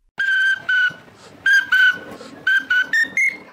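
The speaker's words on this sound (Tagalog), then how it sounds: "knows mo ba na ang pito ay magagamit din bilang instrumento?" A whistle played as a musical instrument sounds out a short tune of sustained, bright notes in bursts, with pitch stepping upward toward the end, close and loud with no voices.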